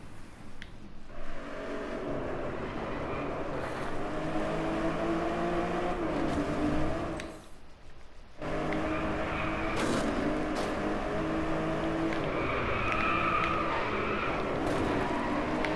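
A race car engine in the video game Driveclub drones steadily around a circuit in Canada, with a brief gear-change lull midway before the engine roars back up, sustained and loud throughout.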